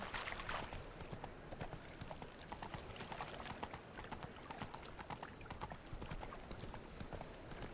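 Steady clip-clop of horse hooves at a trot in The Witcher 3 video game, continuous and moderately loud across the whole stretch with dense outdoor ambience beneath.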